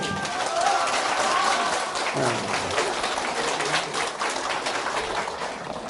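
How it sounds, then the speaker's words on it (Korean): Audience at a political speech applauding in a steady, dense patter of clapping, with voices mixed in underneath. "박수."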